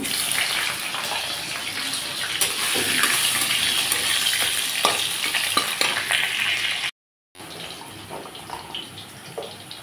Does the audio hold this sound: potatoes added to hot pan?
yes